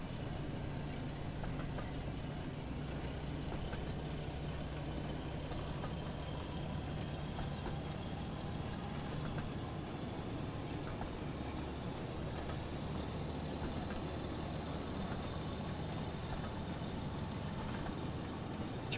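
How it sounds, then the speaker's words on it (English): Diesel, the diesel engine in a Thomas & Friends game, gives a steady low grimy rumble, faint and continuous throughout with no voices. "He sounds like a diesel engine."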